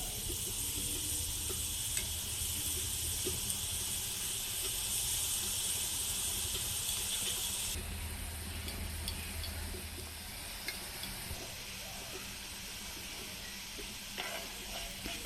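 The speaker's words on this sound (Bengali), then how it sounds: "এগুলোকে জিলেপির মতো পেঁচিয়ে পেঁচিয়ে ভেজে নেব" Nimki pastry dough, cut and coiled like jalebi, deep-frying in hot oil: a steady, close sizzling hiss that runs throughout, dipping slightly partway as the pieces settle.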